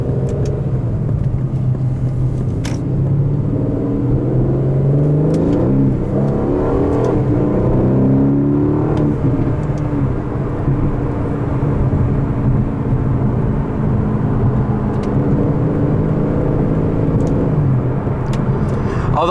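A 2018 Aston Martin DB11 V8 accelerates hard, its engine rising and falling through loud, continuous revs heard from close by for the whole stretch, with no one talking.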